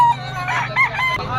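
Crowing from a black Spartan green-legged cock at a Bocaue pet market: one brief harsh call with a couple of rising bursts, close by, over a low steady hum.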